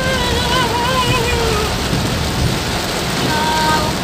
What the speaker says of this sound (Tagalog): Uy, isang ulan ang lakas.